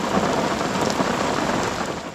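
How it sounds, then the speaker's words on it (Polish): Heavy rain pours steadily during a packraft trip on the Pisa river in Poland, a dense, even hiss and patter close all around without a break. "No pada jednak dosyć porządnie"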